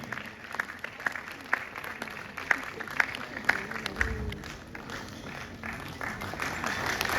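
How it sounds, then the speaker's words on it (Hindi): Applause from the audience at a university convocation ceremony during gold medal presentations, a steady spread of clapping with sharper individual claps standing out, moderately distant in a large hall. "तालियों की आवाज बजती रहनी चाहिए।"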